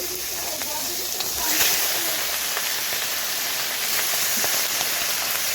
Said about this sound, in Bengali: এর দিকে তেলটা গরম হয়ে গেছে। এবার মাছগুলো আমি ভেজে নেব।